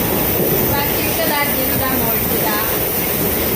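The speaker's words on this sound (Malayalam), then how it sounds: "മേമു ഇത് പുതിയ ഇറങ്ങിയ ട്രെയിനാട്ടോ" A new MEMU electric passenger train runs along the track, its steady loud rumble and rattle heard from inside the carriage, with no pauses throughout.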